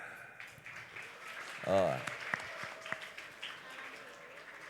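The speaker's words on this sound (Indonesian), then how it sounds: "siap, tepuk tangan." An audience at an Isra Mi'raj school celebration gives brief scattered applause, with a short exclamation and background chatter around the clapping.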